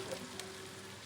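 Chow mein noodles sizzle and crackle steadily in a hot frying pan, a continuous close frying hiss with a faint tap near the start and no talk.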